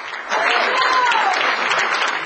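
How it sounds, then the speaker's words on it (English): Applause breaks out at a press announcement naming Wake Forest's new head basketball coach, a steady round of clapping from a room of attendees with voices mixed in, lasting about two seconds. "A handshake and a round of applause."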